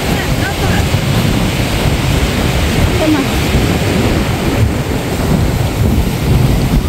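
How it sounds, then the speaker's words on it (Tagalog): Heavy surf at Sandbridge Beach in Virginia Beach roars continuously with strong crashing waves, mixed with wind buffeting the microphone and people talking faintly nearby. "Grabe ang alon dito."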